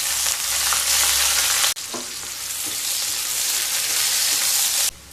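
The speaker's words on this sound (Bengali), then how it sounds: "এবার ওই তেলের মধ্যে একটা বড় সাইজের পেঁয়াজ ভেজে নেব বেরেস্তার জন্য।" Sliced onion for birista hisses loudly in hot oil left from frying eggs, a dense steady sizzle with a brief break and clatter partway through, then it carries on before quieting at the end.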